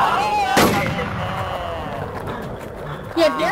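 Gunfire from a PvP shooter match during a clan event, with a sharp loud shot burst early and scattered lighter shots later, heard over continuous game noise and a commentator's talk.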